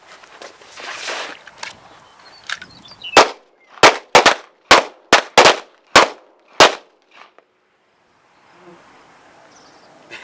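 Pistol shots ring out during a defensive pistol drill, about eight loud, close cracks fired in a quick, slightly uneven string over roughly four seconds, followed by near silence.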